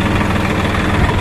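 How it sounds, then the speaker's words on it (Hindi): A Swaraj 960 FE 60 hp tractor engine runs steadily in second gear with a cultivator, a loud, continuous low diesel rumble with a knocking texture, close up and without talk. "अब इसको दूसरे गियर में दोनों लीवर डाउन करके चला के दिखाएंगे आपको।"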